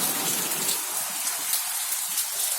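Heavy rain lashes down in strong wind on the road between Pattamundai and Rajnagar, a dense, steady hiss of drops drumming on surfaces, close and continuous with no voices.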